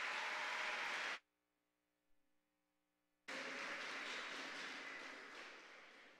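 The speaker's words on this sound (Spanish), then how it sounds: "Fuerte el aplauso para los 12 participantes." Audience applause at a regional oratory contest final in Herrera province: a loud burst of clapping breaks off into near silence for about two seconds, then a second strong round of applause follows and slowly eases.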